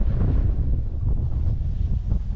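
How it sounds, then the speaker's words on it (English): Outdoors at Copper ski resort, strong gusting wind buffets the microphone with a loud, continuous low rumble and no speech. "It's a little windy."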